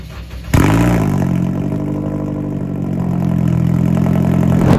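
A dirty car awaiting detailing cranks and its engine catches abruptly after half a second, then settles into a loud, close, steady idle with a low hum and a faint rattle.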